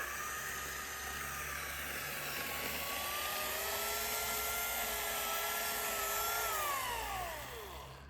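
An electric chainsaw cutting spruce whines steadily at high pitch, its tone rising and falling slightly as it works, then trailing off at the end.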